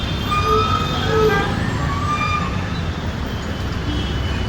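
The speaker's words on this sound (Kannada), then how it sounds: "ಇಲ್ಲಿ ಅನೇಕ ಆ್ಯಂಬುಲೆನ್ಸ್ಗಳು ಈ ರೋಡಲ್ಲೇ ಹೋಗೋದು" An ambulance siren wails over a busy city road, its tone rising and falling above a loud, dense rumble of engines and passing vehicles close by.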